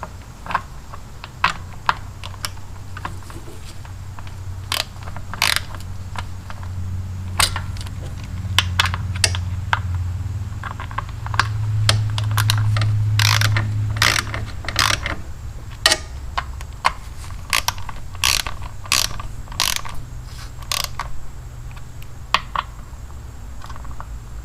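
Wrench ratcheting and clicking on the primary cover bolts of a 2006 Harley-Davidson Ultra Classic motorcycle, irregular sharp ticks close by over a low background hum.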